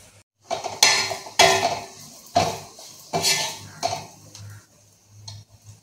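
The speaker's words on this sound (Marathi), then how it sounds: "यावर आता झाकण ठेवूया" A metal lid goes onto a cooking pan with a series of close clanks and clatters, separated by short pauses, and no talking.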